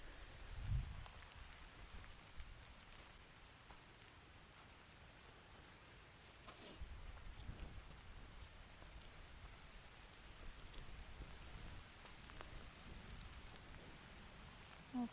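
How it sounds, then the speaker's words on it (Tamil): Steady rain patters on leaves and ground along a woodland walk near Lumsdale Waterfall in the UK, faint and continuous with a few closer drips and knocks. "மழை சவுண்ட்."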